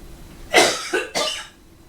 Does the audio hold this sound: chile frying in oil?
no